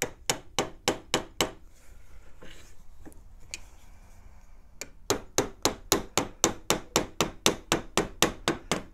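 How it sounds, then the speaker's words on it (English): A mallet taps a metal bezel around a cabochon stone at a jeweller's bench: a quick run of about six sharp knocks, a short quiet pause, then a long, steady series of evenly spaced, close, fairly loud taps. "We use a mallet."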